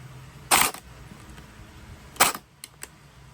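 A&K AK74 gel blaster fitted with a new MOSFET fires two separate semi-auto shots, each a sharp snapping crack, followed by a couple of faint mechanical clicks, close by with no talking.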